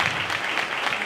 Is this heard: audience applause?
yes